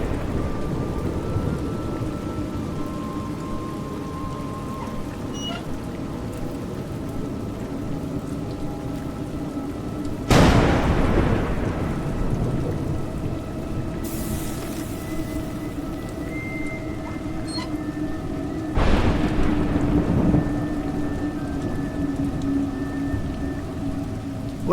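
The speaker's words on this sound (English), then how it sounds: "Raining." Steady rain pours in a video game scene while two loud thunder cracks break out about eight seconds apart, each rolling off slowly under the constant hiss of rainfall.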